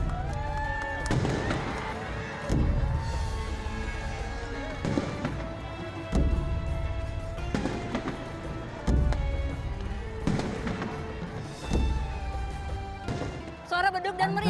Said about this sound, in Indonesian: Suara beduk dan meriam telah terdengar.